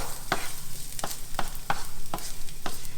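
Garlic sautéing in a pan for pancit canton, a steady close sizzle broken by regular scraping stirs about every half second, with no talk over it.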